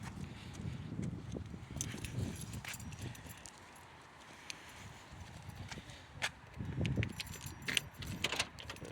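A ring of keys jangles and clinks up close while a door is unlocked, in repeated bursts with shuffling steps and some low background rumble.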